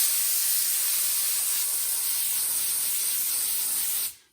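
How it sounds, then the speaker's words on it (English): An air compressor nozzle blows dust off cardboard from a card file cabinet, a loud continuous airy hiss held for about four seconds before cutting off sharply. "I'm going to hit this with the compressor real quick."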